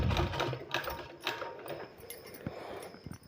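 A sewing machine stitching a sleeve, a short burst of quick mechanical rattling and clicks, loudest at the start and then thinning into scattered taps.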